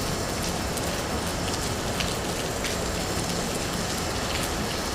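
Steady rain falls on airport pavement at Dallas Love Field, making a loud, continuous hiss with occasional brighter drop splashes and no voices.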